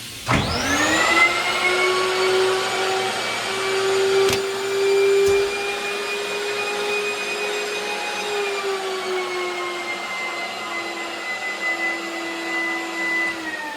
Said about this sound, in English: After it drops down, that vacuum will pull that down around it.